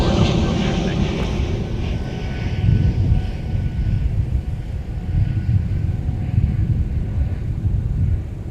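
Delta airliner departing Minneapolis–St. Paul airport toward Chicago O'Hare, a continuous loud jet engine roar and low rumble filling the whole stretch, with faint talk underneath.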